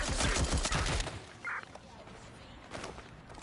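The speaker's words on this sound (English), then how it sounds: "We have gunfire." Gunfire in the video game Watch Dogs Legion: a burst of rapid shots in the first second, then quieter scattered shots and clatter.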